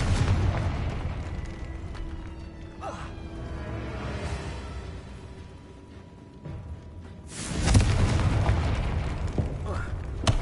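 A Confringo blasting spell detonates in Hogwarts Legacy, a booming explosion with a broad rumbling burst near the end, layered over an ongoing game soundscape of whooshes and ambience; a voice speaks over parts of it.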